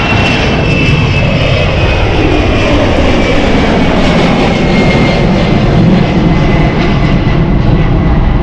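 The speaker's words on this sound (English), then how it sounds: "This is the Airbus A220 going to Geneva." An Airbus A220 jet at London City Airport gives a loud, steady engine roar with a thin high whine across the whole stretch, close and continuous, with no voices.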